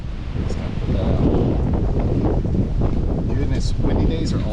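Strong wind gusts roar steadily across the microphone outdoors while beehives are being worked, a loud continuous buffeting rumble with a person's voice faintly mixed in.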